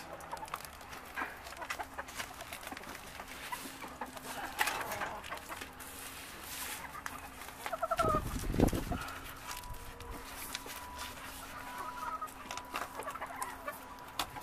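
Hens cluck softly and intermittently in the background, with scattered bird sounds and a brief louder rustle partway through.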